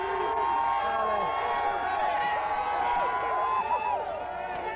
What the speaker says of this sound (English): The crowd is absolutely crazy here.